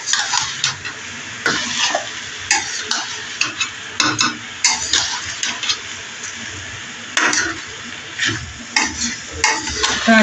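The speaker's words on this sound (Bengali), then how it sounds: "সবজি আর চাল একসঙ্গে দিয়ে দিচ্ছি। যে আজকে খিচুড়িটা হচ্ছে কষিয়ে রান্না করবো।" Vegetables and rice stirred and sautéed in a pot for winter vegetable khichuri, with repeated scraping strokes of a spoon and soft sizzling coming in short irregular bursts, close up and without talk.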